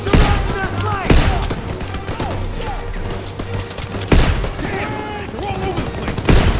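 Rapid machine gun bursts and rattling gunfire from a World War II battle in Call of Duty WWII, loud and close, with several sharp heavy blasts layered over dense firing and shouted voices.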